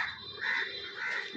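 Crows caw nearby in a short burst of harsh, overlapping calls, with no talking.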